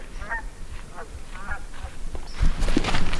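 A few honking calls from a flock of geese ring out in quick succession over a rough outdoor background, growing louder and busier toward the end.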